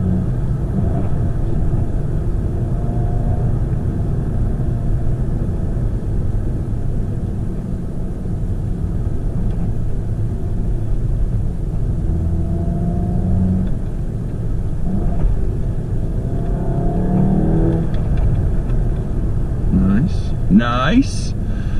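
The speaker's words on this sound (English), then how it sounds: "Hit that downshift." A Volkswagen Golf GTI engine drones steadily from inside the cabin, with a quick rev flaring near the end as it downshifts, while someone talks over the engine noise.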